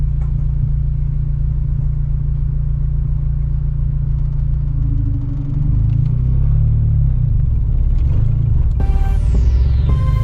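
A Honda Civic with a manual gearbox pulls away in first gear, its engine bogging in a heavy low rumble that rises unevenly as the car lurches forward, with a brief clattering burst near the end.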